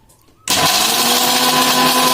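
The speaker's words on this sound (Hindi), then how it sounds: "मिक्सी के अंदर पाउडर फॉर्म में बना लेंगे।" An electric mixer grinder starts abruptly after a brief quiet moment and runs at a loud, steady whir while powdering fox nuts (makhana).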